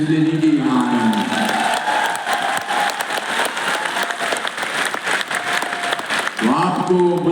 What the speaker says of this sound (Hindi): आपके लिए ये आत्मा से, दिल से ताली मार रहे हैं